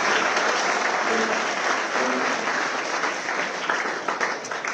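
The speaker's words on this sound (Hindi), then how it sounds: "तो क्रांति के लिए ताली बजाएं" Sustained, loud audience applause filling the hall at a ceremony honouring women's World Cup winner Kranti Gaur at the CM House, steady and dense throughout with a faint voice briefly underneath.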